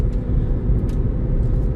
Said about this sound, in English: we will still go for a very quick drive